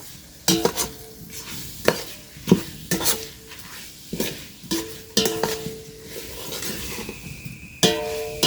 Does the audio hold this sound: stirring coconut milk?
yes